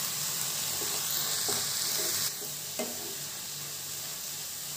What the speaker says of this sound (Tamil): நல்லா வதங்கி இருக்கு இன்னும் கொஞ்ச நேரம் வதக்கலாம்